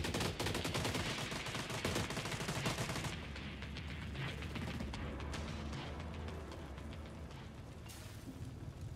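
Sustained, dense gunfire in The Division 2 as turrets are torn apart, loud rapid bursts filling the first three seconds, then easing into a lower continuous rumble of shots and impacts.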